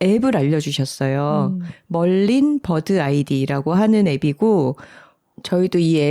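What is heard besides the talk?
No distinct noise like a dog, phone or traffic.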